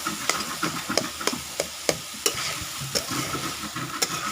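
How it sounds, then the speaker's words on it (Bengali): Saag with potatoes stirred in a frying pan, a steady sizzle punctuated by sharp clacks of the utensil against the pan at an uneven rhythm. "লাড়তেই থাকবো, লাড়তে লাড়তে জল তো মরে গেছে, সিজে দিয়ে গেছে, আলু যে সিজে গেছে।"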